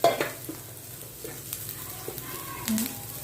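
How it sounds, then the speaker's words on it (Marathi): Cooked noodles being stir-fried with sautéed vegetables in a pan, giving a soft background sizzle with scattered stirring clatters and scrapes, fairly close and steady. "आपल्या भाज्या छान परतलून झाल्या आहेत त्यामध्ये मी आता घालत आहे आपले शिजवलेले नूडल्स"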